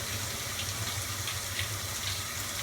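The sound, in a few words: Kenmore 80 series top-load washing machine filling with water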